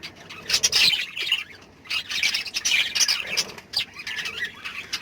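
Lovebirds eating millet squawk and chirp close by in rapid, overlapping harsh calls that keep going the whole time.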